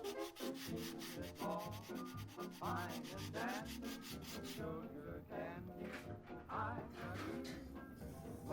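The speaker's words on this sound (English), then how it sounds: "It'll take some hand sanding to get in those grooves." Rapid rhythmic scratching of sandpaper by hand on a 1940s wooden vanity, close and continuous, with a low background tone underneath.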